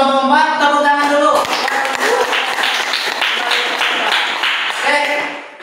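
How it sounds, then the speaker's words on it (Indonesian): A classroom of students gives group 4 a round of applause after their presentation; a burst of many hands clapping rises over a voice and music-like tones, then fades as the tones return. "Terima kasih untuk kelompok 4. Tepuk tangan dulu."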